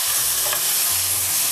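Butter-smoked steak frying in a hot pan, a loud, dense, steady sizzle heard up close without a break, with faint low knocks underneath.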